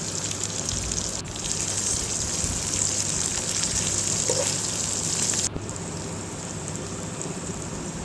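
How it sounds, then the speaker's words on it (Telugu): Bay leaf, pepper, cloves, chillies and onions fry in a kadai with a steady, close, rain-like sizzle that holds without a break, dipping slightly once, and no one speaks. "కట్ చేసుకున్న మిరపకాయలు, ఉల్లిపాయలు ఇవన్నీ వేసేసుకొని ఫ్రై చేసుకోవాలి ఎర్రగా."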